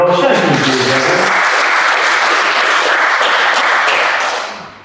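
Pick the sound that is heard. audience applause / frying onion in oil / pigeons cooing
audience applause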